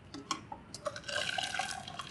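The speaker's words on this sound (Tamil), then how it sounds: "எக்ஸ்ட்ரா இருக்கிற தண்ணி எல்லாம் நல்லா வடிஞ்சாச்சு" Excess water drains from cooked kidney beans in a strainer, starting as scattered drips and building into a light, continuous trickle, close and fairly quiet.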